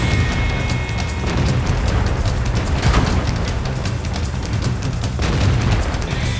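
An E50 tank in a tank battle game fires APCR rounds while on the move. Loud, booming cannon shots crack repeatedly over a heavy, constant engine and track rumble.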